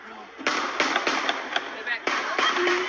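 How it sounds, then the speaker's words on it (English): A rapid series of sharp gunshot cracks, several close together, popping in an uneven rhythm with a voice heard briefly amid them. "There's gunshots fired."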